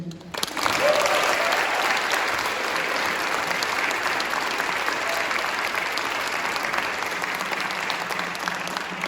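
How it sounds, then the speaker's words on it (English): A concert audience applauds and cheers an orchestra ensemble at a university performance of The Planets, a steady, full wash of clapping that holds evenly for about nine seconds. "if we can just have a minute to cheer for them"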